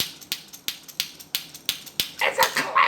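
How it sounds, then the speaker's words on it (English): A clapping toy monkey wearing sunglasses claps out a steady run of sharp clicks, about three per second, close by, with brighter squeaky chirps joining near the end. "it's a clapping monkey. He's a clapping monkey wearing sunglasses"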